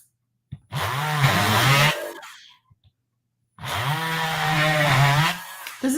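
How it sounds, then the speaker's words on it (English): Small power drill boring a hole through a polymer clay sand dollar: two sustained, high-pitched whining runs of a couple of seconds each, separated by a brief pause, close and loud, with no talking. "you can just drill another hole"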